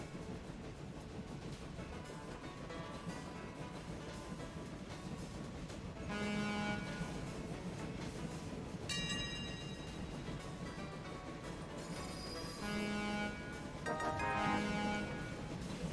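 Train horns sound in the Train Valley railway game, several short honks and longer blasts over a steady rumbling background, with two louder stretches near the middle and end.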